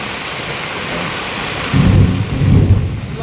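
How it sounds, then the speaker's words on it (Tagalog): Steady heavy rain roars throughout in Montalban, Philippines, joined partway by a deep rumble of thunder swelling low and loud. "lakas ng ulan dito sa Montalban"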